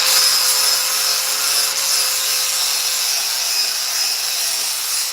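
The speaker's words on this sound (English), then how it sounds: "next we're going to sand that welcome down" An electric power sander works over a carved wooden welcome sign, giving a continuous, loud, high-pitched whir and rasp that holds steady throughout without voices.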